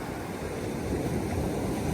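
Sea waves along the Odesa shore, a steady rushing wash of surf with some wind noise, close and moderately loud with no talking.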